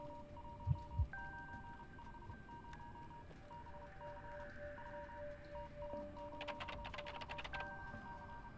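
Decoding in the Identity V Chinatown map: soft repeating electronic beeps and tones pulse steadily over quiet ambient game music, with a brief flurry of clicking ticks near the end.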